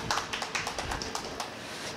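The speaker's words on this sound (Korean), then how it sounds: "큰 박수로 모시도록 하겠습니다." Audience applause welcoming a lecturer at an organic expo cancer-healing talk, a short burst of scattered clapping that sounds moderately distant.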